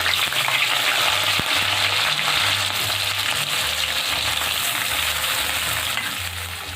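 Chopped onions hit hot mustard oil for chicken dum biryani, a loud, dense sizzle close by that holds steady, with a brief knock of a utensil near the start.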